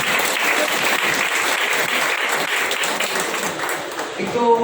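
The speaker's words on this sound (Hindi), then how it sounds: "हमारे रविंद्र सर के लिए मैं एकदम जोरदार ताली चाहूंगा।" A hall audience at a MI LIFE leader event in Boisar claps continuously, a thick, even wash of many hands that holds steady throughout, with a faint voice surfacing at the very end.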